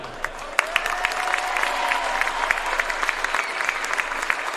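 A crowd at a college basketball game claps for three track and field outdoor All-Americans, a brisk, steady round of applause that stays fairly loud, with a faint tone and scattered sharper claps.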